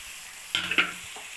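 Mustard, cumin and coriander seeds frying in a pan while being stirred: a soft hiss with two quick close scrapes of a spoon, very short.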